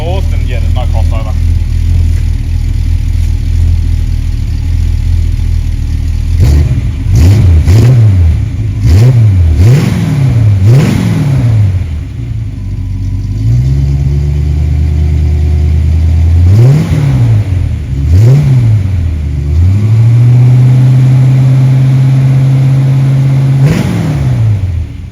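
Holden Monaro V8 with twin 2-inch exhausts, standard manifolds and no crossover pipe, idling with a steady low rumble between repeated sharp blips of the throttle, close and loud.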